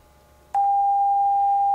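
A steady pure test tone from a speaker driven by a signal generator through an amplifier, switching on abruptly and holding at a constant pitch and loudness.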